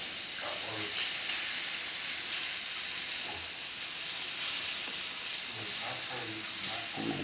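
Homemade gravy sizzles as it heats in a pan on the stove top, with a steady frying hiss and scattered pops and bubbling all the way through.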